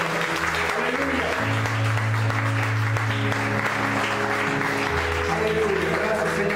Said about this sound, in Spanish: ¿Cuántos nos dan una ofrenda de palmas a nuestro Dios?